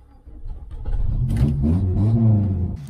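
A VW Golf engine cranks briefly, catches, and rises into a loud, close rev that holds and swells before easing off at the end.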